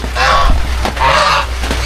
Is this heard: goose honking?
yes